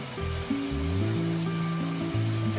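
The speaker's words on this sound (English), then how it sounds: "We're at our favorite place, visiting the falls." A waterfall on a nature walk gives a steady, broadband rush of falling water that holds at an even level throughout, with sustained melodic tones sounding over it.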